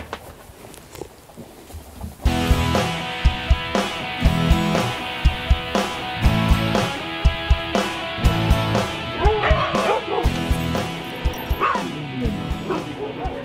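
A sled dog, a team leader at the Grande Odyssée race, yips and whimpers repeatedly in short bursts over steady outdoor background noise, close and fairly loud, with some voices in the mix.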